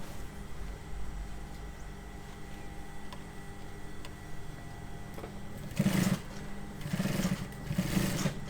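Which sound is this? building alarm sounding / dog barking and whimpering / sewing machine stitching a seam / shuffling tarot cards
sewing machine stitching a seam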